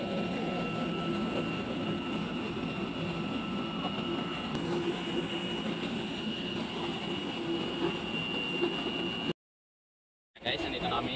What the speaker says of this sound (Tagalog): nandito kami sa loob ng aeroplano